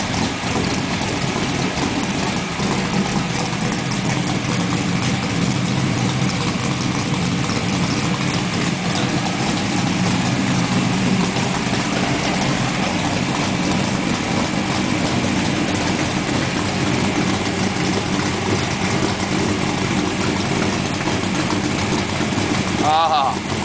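A 1970 Buick Grand Sport with a 455 V8 and stage 2 heads idles steadily and loudly, a continuous low rumble throughout with a brief rev near the end, with voices talking over it.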